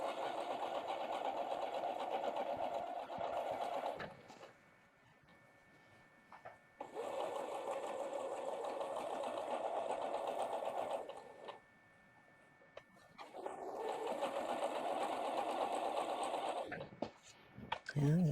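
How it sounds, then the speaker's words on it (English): A sewing machine stitching a pinwheel quilt block runs in three steady whirring bursts separated by short quiet pauses, close and fairly soft. "Okay, let's sew."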